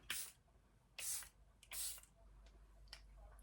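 Three short misty sprays of makeup setting spray hiss in quick succession, each a soft burst under a second long, with faint clicks after them in a quiet room.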